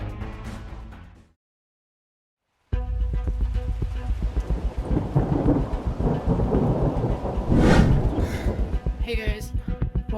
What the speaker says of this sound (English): I just heard thunder.